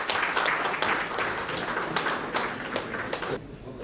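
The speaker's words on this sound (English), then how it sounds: "Let's extend our heartfelt applause," Audience applause welcomes an honoree at an awards ceremony, a lively burst of uneven hand claps with sharp individual hits, fairly close and loud before easing slightly at the end.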